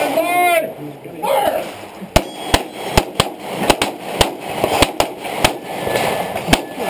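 Glock pistol shots at a GSSF shooting match: after a voice calls a command, about ten loud, sharp cracks ring out in rapid but uneven succession.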